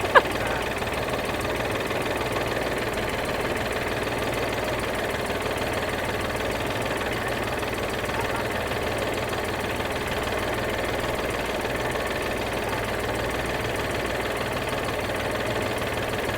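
A tractor engine runs continuously at a steady, rough, knocking idle, loud and unchanging throughout.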